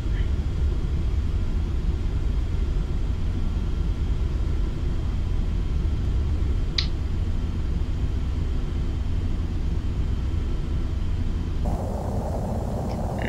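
A steady, loud engine drone and rumble from an airplane in Microsoft Flight Simulator X hold unbroken throughout, with a brief click partway through. No one speaks over it.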